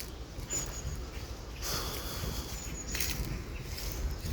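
A wolfdog sniffing close by, with a run of quick breathy snuffs and short bursts of nasal air, no voices over it.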